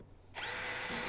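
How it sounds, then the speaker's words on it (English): A power drill with a smaller bit bores through a plastic mounting plate, starting abruptly after a brief quiet and whirring steadily and close. "So what I did is drill that hole first, then I come back with my smaller bit"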